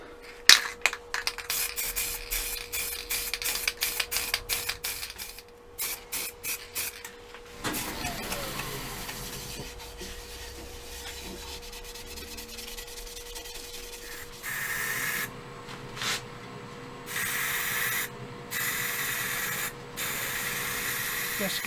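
Sanding sealer sprayed onto a turned decorative wooden box, heard as repeated short hissing aerosol bursts followed by longer steady sprays, close and fairly loud, with a faint constant hum underneath.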